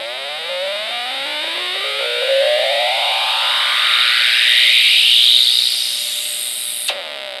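An ELENCO Snap Circuits oscillator gives off a loud electronic tone that sweeps steadily upward in pitch over several seconds, thick with harmonics, while the photoresistor is covered, then cuts off abruptly near the end.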